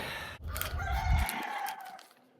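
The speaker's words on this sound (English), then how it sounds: "that rooster sounds like it's getting murdered." A rooster crows nearby, a strained, drawn-out call lasting over a second, heard alone in a quiet outdoor setting.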